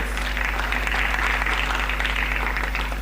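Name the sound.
applause for Sochi Climathon teams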